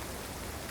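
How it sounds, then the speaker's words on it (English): Rain falls steadily in a winter forest, a faint even hiss with no distinct drops standing out. "I'm waiting here a few moments"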